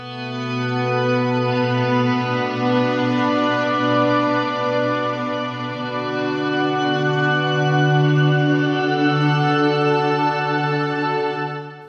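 A sustained, smooth tone from a stereo reverb and delay pedal, washed in lush reverb and delay, shimmering and evolving steadily without breaks, loud and alone.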